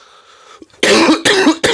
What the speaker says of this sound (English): I'm still ill, as you can tell with the coughing.